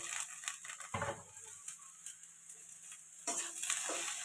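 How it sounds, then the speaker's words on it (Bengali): Egg fries in a pan for chira pulao with cooked potato, a light sizzle broken by a few stirring scrapes and a louder burst of hiss near the end. "এটা ভালো করে এবার ভাজবো।"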